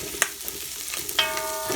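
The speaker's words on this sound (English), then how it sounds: "it's already getting hot and the sugars are burning at the bottom from the onions" Onions sizzling in a hot pan as their sugars start burning on the bottom, a brief close crackle with a couple of sharp utensil clinks.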